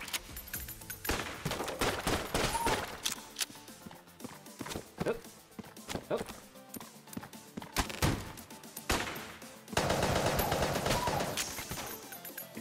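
Gunfire from the trick gun in the Enter the Gungeon video game, with rapid bursts of sharp shots in a dense, fast rhythm against game sounds, loud and continuous with short pauses.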